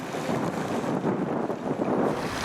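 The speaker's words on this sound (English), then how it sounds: "I apologise for the wind, but it's really whipping along up here." Strong outdoor wind buffets the microphone at a high spot in a theme park, making a steady, loud, rushing roar with gusty swells and no voices.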